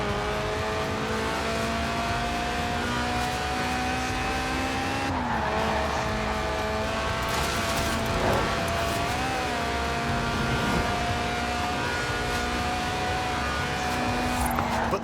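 A Lotus Elise Sport 190, a stripped-out mid-engine track-day roadster in Forza Horizon 4, drones steadily through its gears, its engine note rising and falling with shifts and faint tire squeal, no voices.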